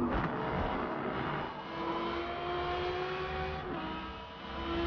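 Race car engine in the Forza racing game, revving and pulling hard under full throttle out of a corner, a loud steady drone with rising pitch and a brief shift, no talking.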